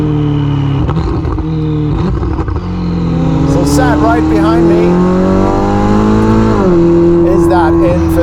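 Novitec-tuned Ferrari SF90 Spider with its twin-turbocharged 4-litre V8, idling and rising in revs with harmonic engine tones, close by and loud, beneath someone talking throughout.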